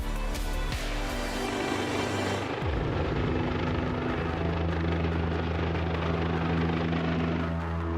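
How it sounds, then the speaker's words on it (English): A massive helicopter comes roaring in over the landscape of AlUla, Saudi Arabia, its rotor and engine noise loud and continuous throughout, with a deep rumble and a throbbing blade chop that shifts as it approaches. "When the massive helicopter we've lined up comes roaring in"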